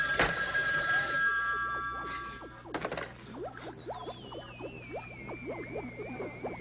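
Telephone bell ringing loudly at first, a bright metallic trill that stops after about two and a half seconds, followed by a wobbling electronic tone and a quick run of chirping, boinging effects.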